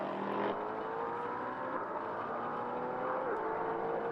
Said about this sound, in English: We await a car coming into view at the hairpin. We can hear it